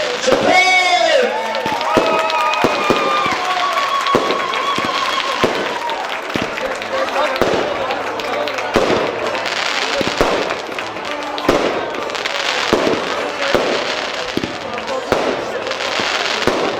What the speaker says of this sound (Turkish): Havai fişeklere baksınlar.